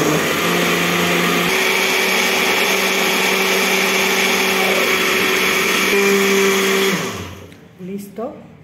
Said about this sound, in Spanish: Ahora vamos a licuar perfectamente todos los ingredientes.